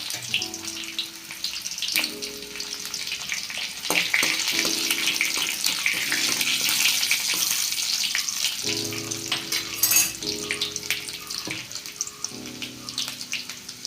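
Sliced shallots and dried red chillies frying in hot oil for a Kerala-style tempering, a steady loud sizzle and crackle with occasional stirring clatter, no voices.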